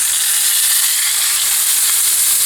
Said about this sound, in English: And you can hear that big time sizzle.